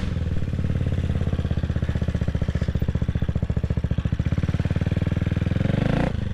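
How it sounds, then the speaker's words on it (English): A Triumph or CCM motorcycle engine starts and settles into a steady, loud, close idle with a fast regular pulsing throb, then cuts off abruptly near the end. "fire the bike up."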